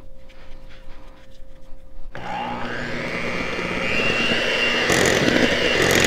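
An electric mixer beats key lime pound cake batter: a quiet start with faint clatter, then the motor kicks in abruptly and whirs loudly and steadily, rising in intensity near the end.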